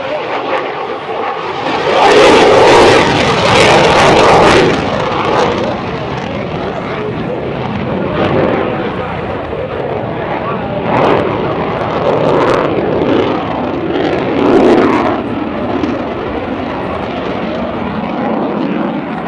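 An F-18 fighter jet repositioning at an international air show gives a loud, sustained engine roar that swells and fades as it passes. A public-address announcer talks over it throughout.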